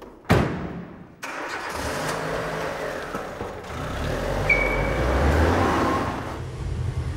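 A car engine cranks and catches with a sudden burst, then settles into a steady mid-pitched idle that hums on for several seconds, close by and fairly loud.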